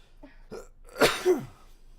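A single sharp sneeze bursts out after a short inhaled build-up, close and fairly loud, ending in a quick tail.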